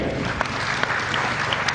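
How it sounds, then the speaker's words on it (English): A brief burst of audience applause at a talk on the Union Budget, a dense patter of clapping from a seated crowd with a few sharper individual claps standing out. "Another round of applause for India."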